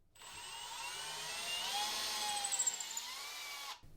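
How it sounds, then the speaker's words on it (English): A power drill bores a hole through a door for an Oak 1CL cylindrical lever lockset, drilling from the outside flush along the door edge; a loud, steady whine runs for about three and a half seconds, then stops abruptly. "We're going to drill from the outside, making sure that we are flush along the edge."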